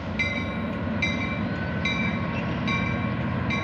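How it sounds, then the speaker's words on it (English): A train rolls past nearby at a station, a steady loud rumble and rattle of rail cars continuing throughout, with faint recurring high squeals from the wheels. "I'll come back to you when the train goes by."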